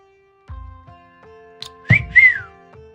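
A person whistles two rising, warbling notes, loud and close, in a sudden burst after a quiet stretch with a steady soft game music tone underneath.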